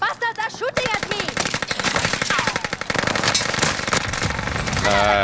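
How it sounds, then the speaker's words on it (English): Rapid automatic gunfire in Call of Duty: Modern Warfare, sustained dense bursts of shots from near the start to the end, loud and continuous, with faint voices in the mix. "The bastards are shooting at me!"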